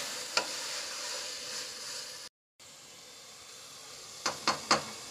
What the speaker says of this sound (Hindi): इनको थोड़ा सा और हिलाकर भून लूंगी।